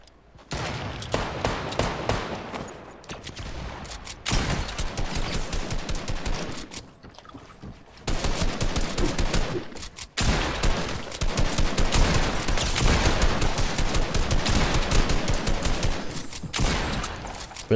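Rapid bursts of automatic gunfire in a shooter video game, sustained volleys broken by brief pauses, loud and close, with no talking.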